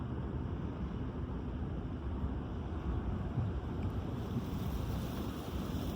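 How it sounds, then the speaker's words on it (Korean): A crosswind buffets an AOS UL7 FPV drone on a long-range flight toward a mountain summit, making a constant, dense roar of wind noise with no other sounds. "옆바람이 부는 게 느껴지네요."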